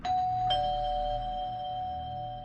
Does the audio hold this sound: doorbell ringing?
yes